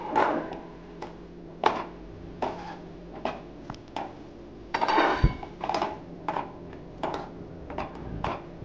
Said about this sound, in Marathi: आपण जे हे प्रीमिक्स तयार केलंय हे आपण ह्याच्यात घालून घेऊ. व्यवस्थित हलवून घेऊ.